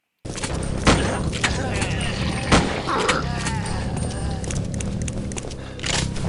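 Gunfire from a zombie video game comes as a few sharp shots spread through a busy, loud game soundtrack, with talking over it.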